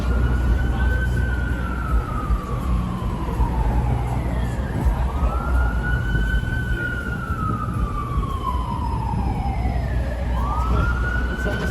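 A siren wails in slow rising and falling sweeps over steady Los Angeles street traffic noise, fairly loud and continuous.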